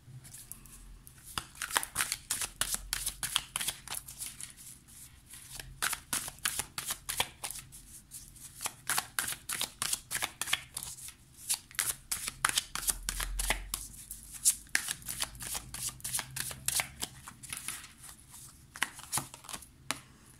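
Luna Somnia tarot deck shuffled by hand, a steady run of rapid crisp card riffles and flicks lasting about twenty seconds, close and fairly quiet, with no talking.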